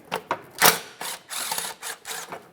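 Ratchet wrench with a 10 mm socket loosening bolts under a 1994-1997 Honda Accord 2.2L four-cylinder during oil pan removal, giving several close bursts of rapid clicking with brief pauses between them.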